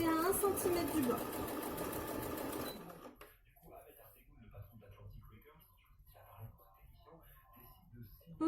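Domestic sewing machine stitching the side seam of a cloth face mask, running loud and steady for about three seconds, then stopping; faint rustling of fabric and a quiet voice follow.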